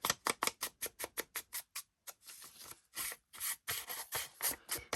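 Distress ink worked around the white edges of a paper Christmas tag, giving a close dry rasping rub in quick repeated strokes, a short pause, then longer scrubbing passes.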